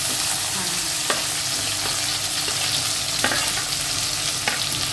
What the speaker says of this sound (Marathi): शिमला मिरची पण परतून घेते.